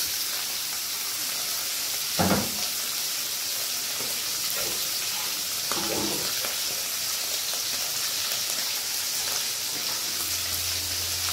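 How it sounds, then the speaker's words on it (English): Saltfish frying in oil in a pot for Jamaican-style callaloo, a steady soft sizzle and hiss with a couple of brief louder crackles. "I just love to fry my saltfish."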